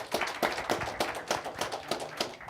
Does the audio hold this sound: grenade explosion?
no